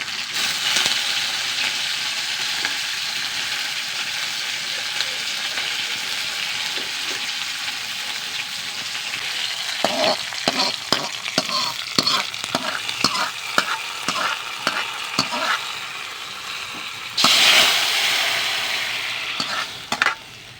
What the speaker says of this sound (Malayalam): കടുകിട്ട് കൊടുക്കാം വറ്റൽമുളക് രണ്ടോളം കറിവേപ്പില